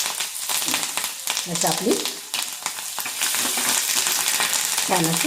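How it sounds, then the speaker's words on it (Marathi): Asafoetida and curry leaves crackling and sizzling in hot oil for a tempering, a loud close spitting fry with stirring clatter while someone talks over it. "हिंग टाकते आणि आता कढीपत्ता टाकून देते"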